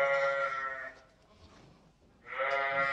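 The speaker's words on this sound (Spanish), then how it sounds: "ahí tenemos los cabritinos" Newborn goat kids on a dairy farm bleat in two long, loud, close cries separated by a quieter pause with faint farm background.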